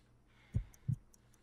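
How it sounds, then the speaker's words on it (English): A game heartbeat from Sherlock Holmes: Crimes and Punishments, two soft low thumps about a third of a second apart, faint and isolated against quiet background hiss. "I need to concentrate and count the heartbeats."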